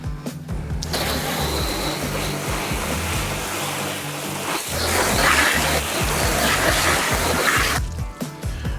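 Water rinsing cleaning product off the body of a motorhome, a steady broadband wash of spraying and splashing that runs continuously and fairly loud, dropping away briefly at the very start and end.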